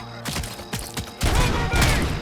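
Gunfire in RoboCop: Rogue City: a few sharp separate shots ring out, then a dense, loud burst of rapid fire with booming impacts, close and punchy, with no talking.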